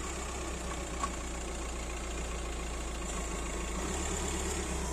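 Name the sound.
car passing by outside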